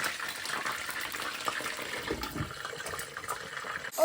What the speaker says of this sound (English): It's bubbling with the sunflower oil.